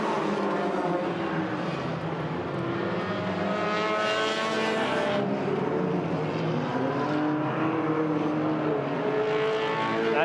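Hornet enduro race cars roar around the Agassiz Speedway roval in British Columbia, a dense, steady wall of overlapping engine drone with several cars at once, loud and continuous throughout.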